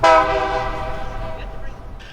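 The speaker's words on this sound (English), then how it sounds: "up came the Sam Shortline tourist train" The Sam Shortline tourist train near Cordele sounds a loud horn blast up close, the chord fading as rail noise and rumbling wheels carry on underneath.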